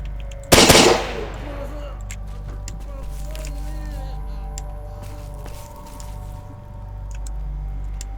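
A video game rifle with a slower cyclic rate than an AK-74 fires one brief, loud burst near the start, followed by low steady game ambience and a few faint clicks.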